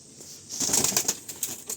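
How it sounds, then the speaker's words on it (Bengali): Pigeons flutter and scuffle close by, quick bursts of wing flapping with soft rustling, brief and restless. "খুব ছটফট এই পায়রাগুলো"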